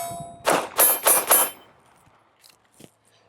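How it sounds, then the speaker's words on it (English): A Ruger Security 380 compact pistol fires Hornady defensive hollow-point ammunition, four sharp, evenly spaced shots in quick succession, followed by faint clicks and small metallic handling sounds. "we're still shooting that Hornady defensive ammo today"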